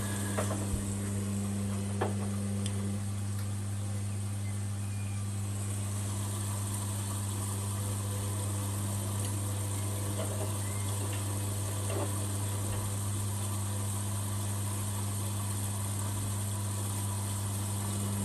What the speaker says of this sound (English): So the Hotpoint will do that wash, that rinse action for the whole thing